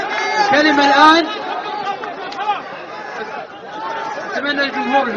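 Noisy audience chatter fills a political seminar hall, a dense babble of many overlapping voices with a few chuckles, steady and fairly loud throughout.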